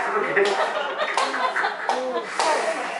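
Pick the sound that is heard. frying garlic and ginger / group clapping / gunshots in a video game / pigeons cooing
group clapping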